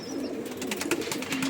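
Pigeons coo softly and continuously in a loft where show birds of Andhra and Madras breeds are kept, a low warbling murmur with a faint higher chirp near the start.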